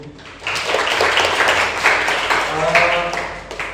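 Applause from a classroom audience during a teacher performance assessment lesson in informatics, a steady wash of many hands clapping for a few seconds, fairly close, with some voices mixed in.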